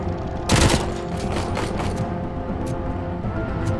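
Rapid gunfire from the RoboCop Rogue City video game hits enemies, a loud burst of shots followed by continuous rattling fire over a dense background of game sound.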